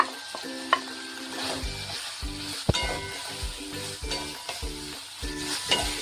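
Vegetables for vegetarian fried rice sizzling in a pan and stirred with a utensil, steady frying hiss broken by regular clinks and scrapes of stirring, close and clear with no talking.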